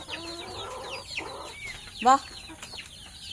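Backyard rooster and laying hens cluck in a netted coop, with several short calls and one louder squawk near the middle, close by, while a voice speaks briefly.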